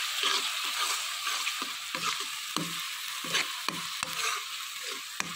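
Ginger, garlic and green chilli frying in hot oil with a steady close sizzle, broken up by regular scraping stirs of a spoon in the pan, no voices.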